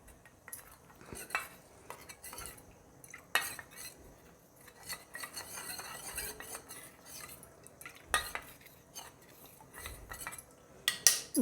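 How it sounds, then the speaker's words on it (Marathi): A spoon stirs an almond milk mixture in a pan with the gas turned off, giving scattered metallic scrapes and clinks of irregular rhythm, close and fairly quiet, louder near the end. "हे टाकलं लगेच असं हलवून घ्यायचं याला"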